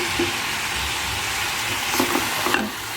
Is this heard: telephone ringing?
no